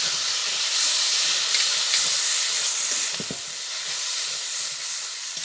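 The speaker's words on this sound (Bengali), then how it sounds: "একটু জল দিলাম, তলাটা ধরে যাচ্ছে তো" Water poured into a hot cooking pan where food is sticking to the bottom, giving a loud continuous steam hiss and sizzle that holds steady throughout, close by with no talk.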